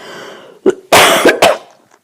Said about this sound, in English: I'm going to cough a minute